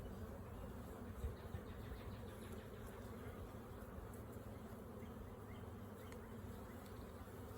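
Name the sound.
honey bees buzzing at an open hive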